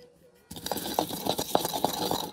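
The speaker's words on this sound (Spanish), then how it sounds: "Voy a empezar a moler aquí 2 dientes de ajo en el molcajete" Garlic cloves and cumin ground in a stone molcajete: a short bout of rough, gritty scraping with rhythmic pestle strokes, close up after a quiet start.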